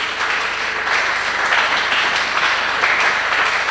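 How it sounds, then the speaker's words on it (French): A church congregation applauds and cheers during a sermon, a dense, steady wash of clapping and voices that holds loud and even throughout without a break. "Est-ce que tu peux bénir Dieu par des acclamations?"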